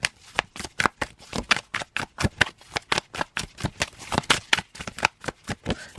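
A deck of tarot cards being shuffled by hand, a rapid, regular riffling rhythm of close, crisp flutters repeating steadily throughout, no voices.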